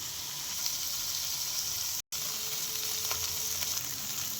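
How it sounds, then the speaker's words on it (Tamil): Goat brain frying in a pan for a fried brain dish, giving a steady, close sizzle with a brief dropout midway and no talk. "கொஞ்சம் நல்லா வதங்கி வரட்டும்"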